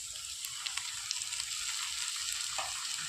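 Chilli and onion gravy for a Kerala-style fish roast being stirred in a pan over a low flame, giving a steady close sizzle with soft scraping stir strokes throughout, no voices.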